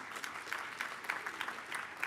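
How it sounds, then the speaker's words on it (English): Audience clapping at the 2023 All Washington Academic Team ceremony, a brisk, moderately loud round of applause with sharp individual claps standing out from the steady patter. "Round of applause."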